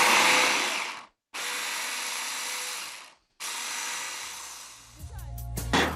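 A kitchen robot mixer whirs loudly at steady speed while blending cheesecake batter, stopping briefly twice before starting again; it winds down near the end as clinks and small handling noises take over.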